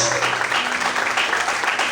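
A church congregation applauds loudly and steadily throughout, a dense wash of clapping with voices mixed in and a low tone sustained underneath.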